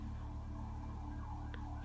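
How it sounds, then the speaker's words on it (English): An emergency siren passes outside a room, a faint wavering wail rising over a steady low hum with no one speaking. "Oh, sorry about the sirens."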